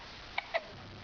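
A baby girl hiccups twice in quick succession, short soft tonal catches close by over a quiet background, with no talking.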